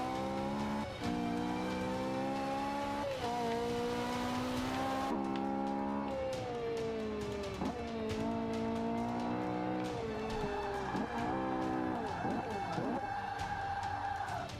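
A 2009 Ferrari 458 Italia in the Forza 5 racing game, its engine note loud and steady throughout, repeatedly climbing in pitch and dropping back through gear changes and braking.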